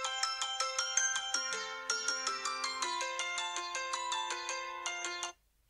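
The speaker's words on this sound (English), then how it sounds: "everyone hates the sound of their alarm clock" Phone alarm clock sound playing a bright, chiming melodic ringtone of rapid bell-like notes in a steady rising pattern, fairly quiet and uninterrupted for about five seconds before cutting off abruptly.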